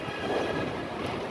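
Strong wind and rain on a street in Manila, heard as a steady, loud, broadband rush of gusting wind buffeting the microphone, with no voices.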